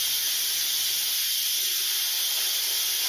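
Steam hisses steadily from the valve button of a pressure cooker holding a cup of water, a loud, continuous high rush that holds for the whole moment without pause.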